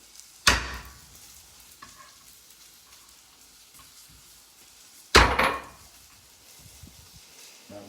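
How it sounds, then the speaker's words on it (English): Two sharp, loud chopping strikes of a knife on a cutting board, about five seconds apart, with quiet room noise between them. "we'll just slice this right across the grain, just like that"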